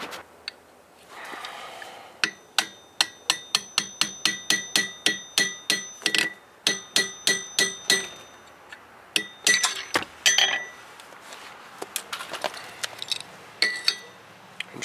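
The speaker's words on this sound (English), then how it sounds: "I'll follow it up with another punch or something to push that all the way through." A rapid series of sharp metallic strikes, evenly spaced at first and then more irregular, ringing clinks of a hammer on a punch driving a hole through a coin close by.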